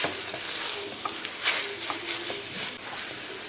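Chicken vegetable spaghetti sizzles in a pan as green onion is stirred in, a steady frying hiss broken by soft utensil clinks and scrapes, close and even throughout.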